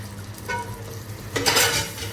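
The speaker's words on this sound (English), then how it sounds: "We're going to add the remaining water that we used to steam the vegetables. That goes straight into the mixture." Leftover water from steaming vegetables is poured into a chicken mixture in a pan, giving a sizzling hiss and liquid splash that swells near the end, with light stirring and utensil clinks and no talk.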